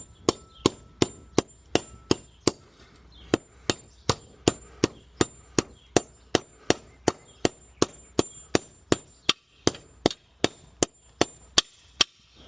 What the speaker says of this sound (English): let's get these masonry anchors in